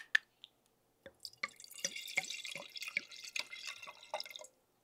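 Sauvignon Blanc white wine poured into a glass, a soft sequence of drips and glugs followed by a few seconds of continuous trickling liquid, close and quiet.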